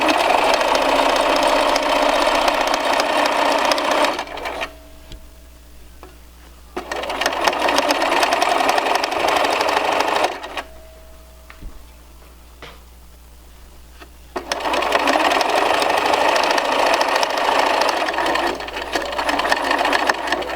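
Sewing machine zigzag stitching a cloth face mask, three bursts of rapid mechanical whirring separated by quiet pauses with faint clicks, close and loud, no talking.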